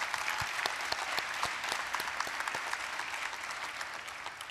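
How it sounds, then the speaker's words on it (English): A graduation ceremony audience claps continuously, giving a dense, steady wash of applause that holds at an even level and tapers slightly at the end. "Let's give her a round of applause."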